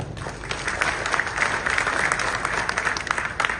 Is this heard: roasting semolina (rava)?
no